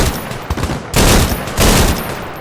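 A video game gun firing in loud, dense bursts of rapid shots, two long volleys standing out after a choppier opening, close and dominant.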